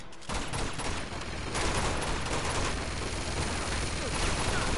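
Dense Uncharted 2: Among Thieves gunfire erupts after a brief quieter start, a continuous wash of overlapping shots and bursts that stays loud and chaotic throughout.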